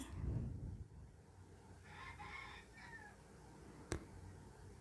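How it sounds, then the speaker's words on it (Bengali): A backyard hen clucks faintly in a short run of calls, eager for freshly picked leafy greens, set against quiet outdoor ambience with one sharp knock near the end. "মুরগি আমাকে ঝালাপালা করছে শাক খাওয়ার জন্য"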